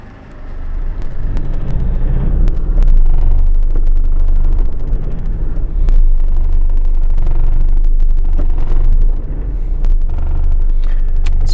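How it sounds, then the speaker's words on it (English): A Ford Ranger with a 3.0 diesel that blows black smoke and is hard to start, heard driving at night: a loud, steady low engine rumble with road noise and occasional rattles. "let's take it for a drive and see what sort of power we get from out of this car"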